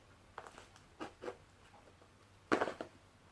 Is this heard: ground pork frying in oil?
no